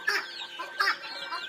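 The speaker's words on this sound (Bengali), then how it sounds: "টার্কিটা একদম ফুল ব্রিডিং মুডে আছে" A turkey in full breeding mood gives a few short, close clucking calls, with two sharper bursts roughly a second apart.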